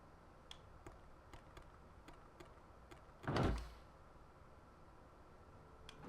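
A door opens in the cyberpunk ghost-story game Sense, a single loud burst with a broad sweep lasting about half a second, set against quiet background ambience with faint, regular ticking.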